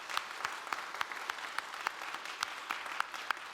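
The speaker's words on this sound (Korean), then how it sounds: "자, 우리 모두를 위해서 한번 격려의 박수 하겠습니다." A church congregation applauds in encouragement during a New Year prayer service, a steady room-filling wash of many hands with sharper individual claps standing out, no voices over it.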